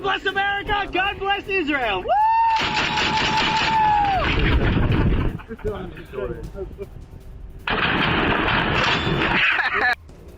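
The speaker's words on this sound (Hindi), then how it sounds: "इजरायली सैनिकों ने फायरिंग करके डोनाल्ड ट्रंप की जीत का जश्न मनाया।" Israeli soldiers fire guns in celebration, with two sustained bursts of loud, rapid shots close by, mixed with shouting and chanting voices.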